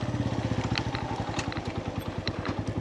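A motorcycle engine chugs in a fast, even pulse, close and steady, as the bike climbs a rough mountain trail over stones and soft soil.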